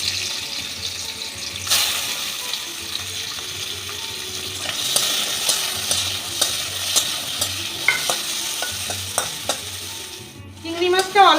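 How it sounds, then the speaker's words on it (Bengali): Shrimp fry in hot mustard oil with a steady sizzle, broken by the repeated scrape and clatter of stirring in the pan. No one speaks. "এর মধ্যে আমি চিংড়ি মাছটা একটু সাঁতলে নেব।"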